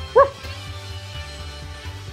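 A person imitates a dog bark, giving one short sharp yip near the start, followed by quieter low rhythmic background sound.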